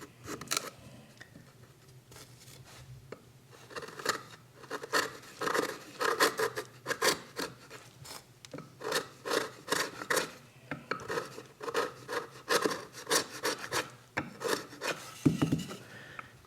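Hand file rasping along the sides of a wooden guitar neck, a long series of steady back-and-forth strokes, close and fairly quiet, with a soft scuffing handling noise near the end.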